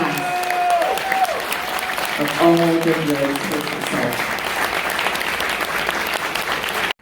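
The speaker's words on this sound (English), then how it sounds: "please, another round of applause for" Strong audience applause for the cast at the Sundance world premiere of a film, sustained clapping throughout while a voice speaks over the start.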